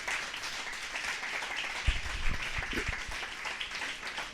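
A church congregation claps along during a sermon, a steady wash of fairly faint crowd clapping that stays even throughout, with a few slightly stronger claps near the middle.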